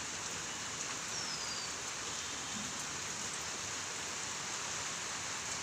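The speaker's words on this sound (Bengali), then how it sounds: "বৃষ্টি পড়ছে" Rain falling steadily during a change to rainy weather after hot days, a continuous, even hiss of drops with no breaks, fairly soft and filling the whole stretch.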